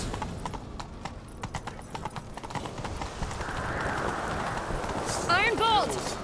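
Horse hooves clip-clop at a steady galloping rhythm in The Witcher 3: Wild Hunt, moving along under game speech, with a horse whinnying near the end over a rising background rush.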